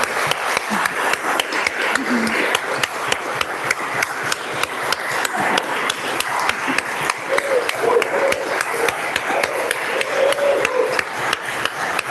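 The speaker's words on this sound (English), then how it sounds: "Let's give these Pages one more round of applause." A room full of people applauds steadily, dense clapping sustained for several seconds, with a few faint voices mixed in.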